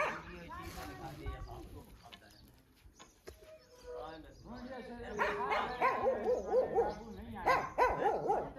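A village dog barks and yips a few times amid busy background chatter and movement, with voices talking throughout.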